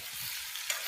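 A home-style village chicken curry with potatoes sizzles in hot oil as it is stirred, with a brief louder hiss near the end where water meets the pan; steady, close and fairly quiet, with no talking.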